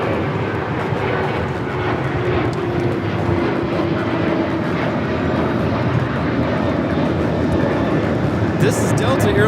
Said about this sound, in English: This is Delta Airlines 1865 taking off to Puerto Vallarta on the 737-800